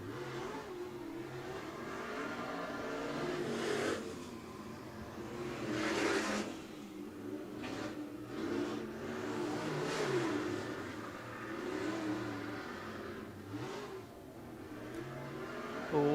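Topless B-mod race cars run hot laps around a dirt speedway, engines droning and swelling as they pass at a distance, with waves of revving rising and fading over a continuous roar.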